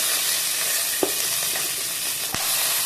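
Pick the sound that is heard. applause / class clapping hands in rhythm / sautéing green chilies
sautéing green chilies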